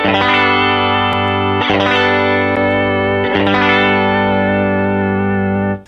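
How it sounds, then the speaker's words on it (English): A sustained electric guitar chord through a modulation pedal with a gentle warbling, wavering effect, restrummed a few times and ringing steadily before cutting off at the end. "you do hear a little bit of that like warble and shaky thing"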